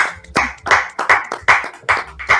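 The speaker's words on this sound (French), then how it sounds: "Can we clap our hands for the Holy Spirit where we are?" A church congregation claps together in a steady, even rhythm, about two claps per second, close and loud, with no voices over it.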